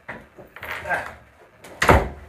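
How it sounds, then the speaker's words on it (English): A door is pushed shut indoors, with shuffling and a soft sliding movement leading to a single firm thump near the end, close by and moderately loud. "I'm going to shut the door."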